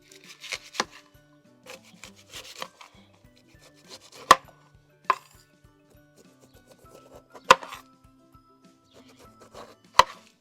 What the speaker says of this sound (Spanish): En lo que están, vamos a picar la parte de la piña.